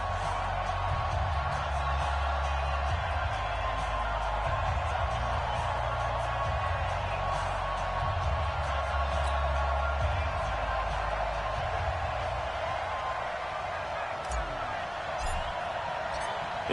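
A stadium crowd in the Madden NFL 20 video game roars at a Redskins home game as a steady, distant wash of cheering beneath commentator talk.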